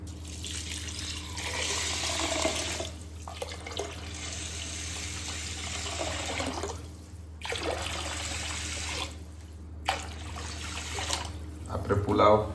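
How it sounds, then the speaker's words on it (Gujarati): Water runs from a tap into a cooking pot while rice is prepared for kadhi pulao, a steady splashing flow that stops and starts several times, with a person talking over it. "હવે આપણે એમાં પાણી એડ કરીશું।"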